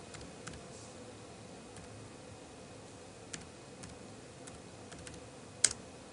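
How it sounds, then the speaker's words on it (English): Typing on the keyboard dock of an ASUS Transformer Prime tablet: light, scattered key taps, soft and close, with one sharper tap near the end and no talking. "just typing on the keyboard will initiate a Google search"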